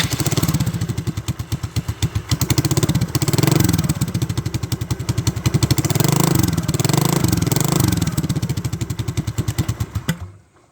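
A scooter engine with a damaged silencer muffler pipe runs with a harsh, cracked, rapidly pulsing exhaust putter, loud and close, rising and falling slightly in revs for about ten seconds before cutting off.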